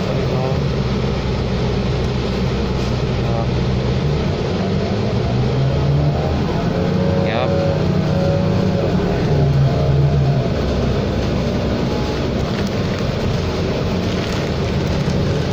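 A 2018 New Flyer XD40 40-foot city bus on route 4 in Edmonton, Alberta, heard from inside as a steady, loud low engine drone and road rumble that runs throughout.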